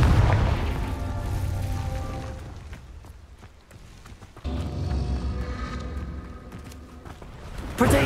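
Blasting-curse explosions go off in Hogwarts Legacy: deep booms land at the start, midway and again near the end, each surrounded by rumbling game effects.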